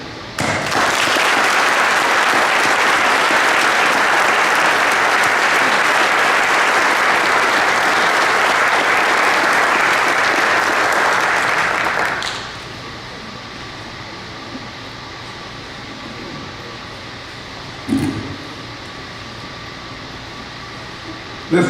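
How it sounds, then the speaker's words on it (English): A crowd at a Key to the City of Clinton award ceremony applauds loudly and steadily for about twelve seconds, then the clapping stops abruptly, leaving quiet room tone with a faint knock. "We applaud you and thank you."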